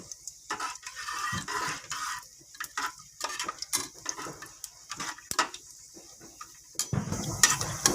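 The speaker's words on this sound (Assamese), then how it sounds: "গোটা মছলা মই দালচেনিখিনি দি দিম। দালচেনি, লং, ইলাচি গোটেইকেইটা মই দি দিছোঁ। অলপ লৰাই দিম।" Whole cinnamon, cloves and cardamom stirred in a pan for vegetable pulao, a spatula scraping and rattling the spices in uneven bursts, close and clear with brief pauses between strokes.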